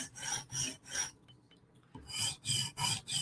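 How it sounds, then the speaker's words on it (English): Knife edge drawn across a low 150-grit sharpening stone in a cleanup pass, close rasping strokes in a steady rhythm with a short pause midway. "this is a cleanup pass for me with the low grit stone with that 150"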